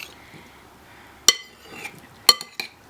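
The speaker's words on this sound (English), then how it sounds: "I'm going to use a serving utensil to give it a nice mix." A serving utensil mixes a roast veggie salad in a bowl, giving a couple of sharp clinks against the dish amid soft rustling and scraping, close and fairly quiet.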